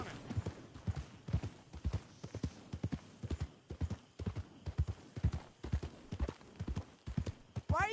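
Horse hooves clip-clopping at a steady riding pace in Red Dead Redemption 2, a continuous rhythmic trot of fairly close thuds, with a faint whinny-like sound near the end.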